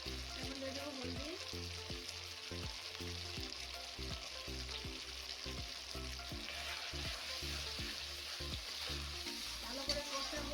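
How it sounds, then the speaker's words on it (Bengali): Spice masala with salt and turmeric sautéing in a pan for mutton curry, a soft steady sizzle with a regular rhythm of spoon stirs and scrapes, close but fairly quiet. "ভালো করে কষাবো।"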